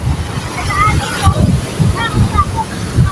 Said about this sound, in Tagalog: Kusog kayong bawod sa tubig.